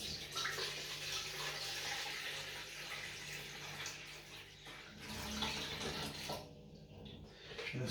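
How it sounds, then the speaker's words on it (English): Water poured steadily into a saucepan while making homemade salve, a continuous close rushing splash with a broad hiss that swells and eases slightly before tapering near the end, no talking. "and then we want to pour the water"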